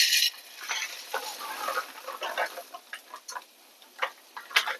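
Sunflower seeds roasting in a little ghee are stirred in a pan, giving irregular close scraping rattles and soft crackles in quick bursts over a quiet background.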